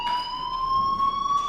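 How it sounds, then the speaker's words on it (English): An electronic fire alarm in the video game Life is Strange sounds a steady, high-pitched tone with bright harmonics, continuous and fairly loud throughout, with no talking over it. "do you hear that fire alarm?"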